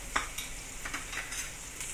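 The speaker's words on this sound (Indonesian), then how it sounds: "Sis suka tumis dia punya serai dulu, biar dia naik bau." Chopped lemongrass sautés in hot oil for pineapple chicken fried rice, giving a soft, steady sizzle broken by a few light stirring scrapes, with no voices.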